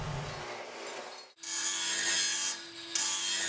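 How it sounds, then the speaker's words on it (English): A metal cutting saw with a toothed blade cuts through steel with a steady, high, loud whine and a grinding rasp that hold for several seconds, after a short rough rubbing start and a brief drop in level. "A metal cutting saw with a tooth blade costs more,"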